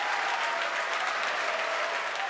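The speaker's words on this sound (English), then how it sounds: "if you can hear me over the cheering" A large crowd cheers and applauds at the Falcon Heavy rocket launch from Cape Canaveral, carrying the Arabsat-6A satellite, a steady, loud wash of clapping and shouting sustained throughout.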